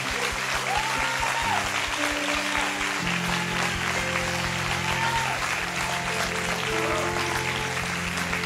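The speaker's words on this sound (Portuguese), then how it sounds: "eu queria que você aplaudisse ao Senhor Jesus." A church congregation applauds the Lord Jesus at the close of a service, sustained and even clapping that fills the space while keyboard chords play underneath.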